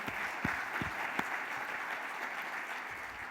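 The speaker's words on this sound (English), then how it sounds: "So let's give them a round of applause." Audience applause at a foundation's live event, a steady wash of many hands clapping at moderate distance with a few sharper claps standing out.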